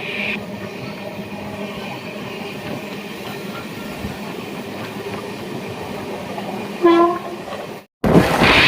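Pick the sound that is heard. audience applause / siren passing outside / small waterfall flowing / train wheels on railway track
train wheels on railway track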